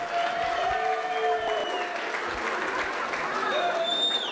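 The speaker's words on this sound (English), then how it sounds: "Let's all give a big round of applause for our best man, Kevin," Wedding guests applaud the best man during reception toasts, a steady wash of clapping from a crowd throughout, with voices calling out over it.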